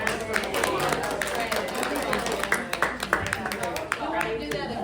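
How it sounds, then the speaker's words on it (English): A meeting audience claps for a trivia night host, a sustained round of individual hand claps at close range, with chatter and voices over it throughout. "Let's give Jillian a round of applause"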